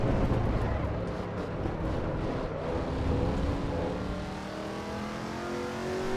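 Chevrolet Camaro ZL1 V8 on a race track in Assetto Corsa Evo, a steady loud engine drone with rising and falling pitch as it accelerates through gears, heard alone.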